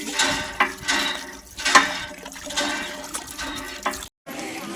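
Water running and splashing as a container is filled at a village home, with a steady rushing flow that surges and dips, briefly cutting out near the end before resuming.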